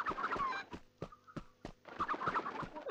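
Game chickens from a PS2 title give a few rapid clucks, some turkey-like gobbling, and then a short gap before another flurry, all close and unaccompanied by speech.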